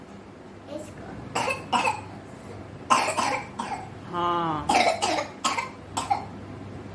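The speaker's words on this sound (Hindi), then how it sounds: "खांसी किसको हो रही है?" A child coughs several times in short bursts, with a brief hum-like vocal sound in the middle and quiet speech around it.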